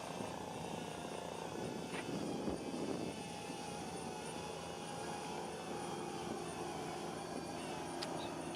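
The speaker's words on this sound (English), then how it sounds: "You can hear the drones humming above it." Camera drones hover above an off-road desert race on the Baja California rally route from Ensenada to San Felipe, making a steady, faint mechanical hum overhead against outdoor background noise.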